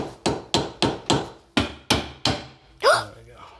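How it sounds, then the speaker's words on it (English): Eight sharp hammer taps in a steady rhythm, close and distinct, followed by a brief voice at the end. "You're gonna take this hammer here. You're gonna put it right in there."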